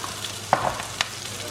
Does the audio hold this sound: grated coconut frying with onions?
yes